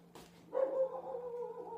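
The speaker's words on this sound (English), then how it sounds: "my dog just barked at me." A dog gives a short bark or yip close by, followed by a sustained whining, whimpering tone, with a steady low hum underneath and no talking.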